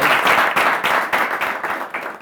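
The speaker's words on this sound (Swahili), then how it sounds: "Jipigieni makofi pia studio" A studio audience breaks into loud, sustained clapping that surges in several rhythmic waves close to the microphone, with no voices over it.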